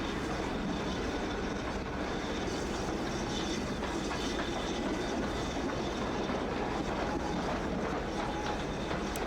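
A simulated HST high-speed train in Train Simulator rumbles past steadily with a continuous roar and faint clattering, sustained and loud throughout.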